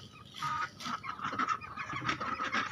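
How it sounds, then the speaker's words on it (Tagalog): A farmyard duck calling near the microphone, a run of harsh repeated honking quacks in quick succession, fairly close with no talking over it. "Ito naman yung itik."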